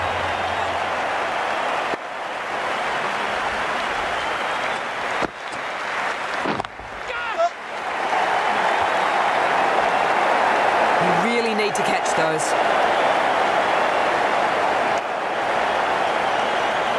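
A dense stadium crowd roars and applauds in the Cricket 19 game, a continuous loud wash of cheering that swells and sustains, with a commentator's voice over it.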